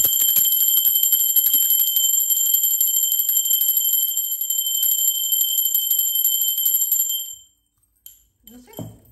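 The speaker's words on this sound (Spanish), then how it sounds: "la campana es una energía de alta frecuencia que es muy necesaria para cuando trabajamos con energías" Bell rung for energy work, a high, bright sustained ring with shimmering overtones that holds steady for about seven seconds, then cuts off, followed by a brief faint voice.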